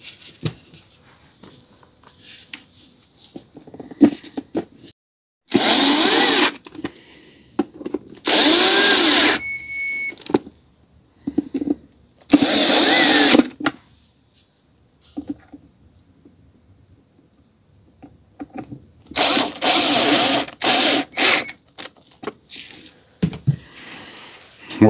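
Power screwdriver driving bolts into a Haier water dispenser under repair for a leak, several loud close bursts of whirring separated by quiet pauses and handling noises.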